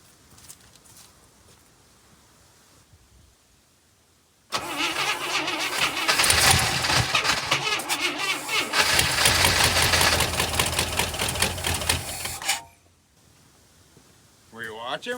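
A 1973 International crew cab truck's engine cranks loudly and close for about eight seconds in a dense, rhythmic churn, with quiet stretches before and after.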